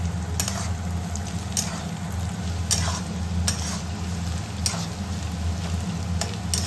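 Fried ingredients are stirred into rice in a pan, with a steady low sizzle under repeated scraping strokes of a utensil at an even, unhurried rhythm, close up and alone without talk.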